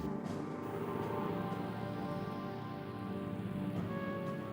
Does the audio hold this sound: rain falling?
yes